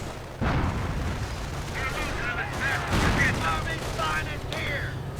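BAR rifle bursts crackle through a WWII strategy game battle, dense overlapping gunfire and booming explosions filling the scene continuously, with a commentator talking over the din.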